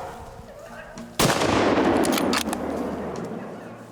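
A single rifle shot cracks out loud and close during a hound hunt for sambar deer, its sharp report followed by a long rolling echo that fades over several seconds.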